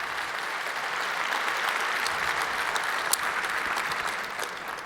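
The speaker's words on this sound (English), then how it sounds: "please give him a round of applause" Audience applause at a technical talk on SIM card technology as a speaker is introduced: dense, steady clapping from a crowd, sustained at an even level for about five seconds with no voices.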